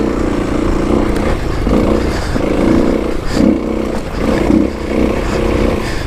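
A Kawasaki KLX300 dirt bike gets moving on a desert trail, its engine close and loud, revving in quick bursts that rise and fall with each gear and throttle change.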